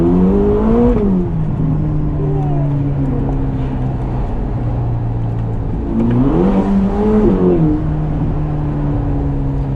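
Ferrari Roma turbocharged engine accelerating up through the gears, a loud, close steady drone with rising revs and two clear shift dips, no talk over it.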